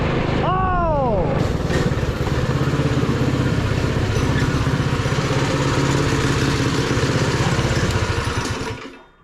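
A Predator 212cc Stage 2 small engine revs up with a rising whine, then holds a loud, buzzing drone at speed, up close, before cutting off and fading near the end.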